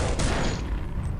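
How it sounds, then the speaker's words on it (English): Rapid gunfire from a weapon in the System Shock 2 video game, a dense, loud burst of overlapping shots filling the whole short moment without pause. "I'm shooting the wrong kind of bullets."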